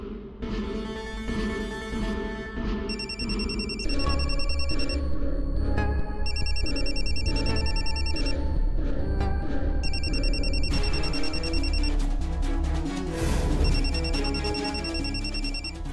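A phone rings persistently in a home, its electronic ringtone repeating in bursts over a backdrop of dramatic music from a Marathi TV serial, loud and insistent, with no one speaking.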